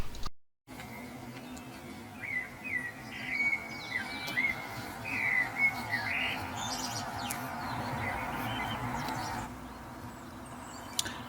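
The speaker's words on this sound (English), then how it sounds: "the birds are up and about, chirping away" Several birds chirping and tweeting in scattered bursts at dawn around 5 AM, over a steady low outdoor rumble, fairly distant, no talking.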